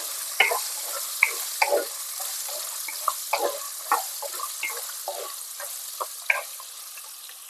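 Whole small onions and garlic frying in oil, a bright hissing sizzle with many close spatters and stirring taps spread irregularly, gradually fading slightly; nobody speaks.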